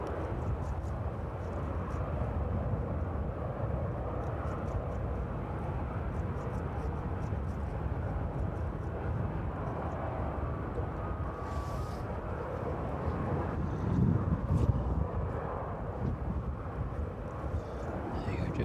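A Ryanair jet airliner taxiing toward runway 27 at East Midlands Airport on an evening with crosswind: a steady, broad engine rumble and whine heard from a distance under gusting wind noise, with someone talking over it.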